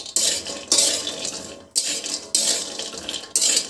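Ingredients for homemade baby food dry roasting in a pan over a low gas flame, heard as loud, close, repeated bursts of rustling and scraping as they are stirred and tossed, separated by brief pauses, with no talking.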